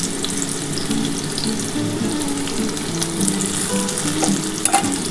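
Chopped onion and tomato fry steadily in a pan for an egg poach curry, a continuous close, fairly loud sizzle with small bubbling pops and no talking.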